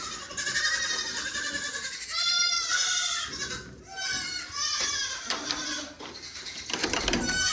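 Baby Nigerian Dwarf goats on pasture bleat in a loud, overlapping chorus of high, wavering cries, with many kids calling at once and almost no pause between them.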